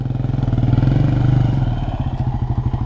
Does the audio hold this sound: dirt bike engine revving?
yes